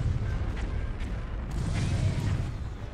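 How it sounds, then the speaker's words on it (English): Big guns firing in the Warhammer 40k Fire in the Sky space battle game, Imperial fleet against Chaos fleet: a dense, continuous rumble of booming artillery blasts with sharper bursts layered on top, loud and sustained throughout. "look at this big boy firing with his big guns"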